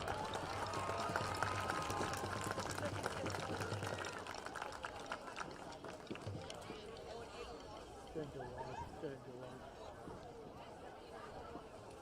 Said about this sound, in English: Let's hear a nice round of applause for all our Richland Rams seniors on this senior night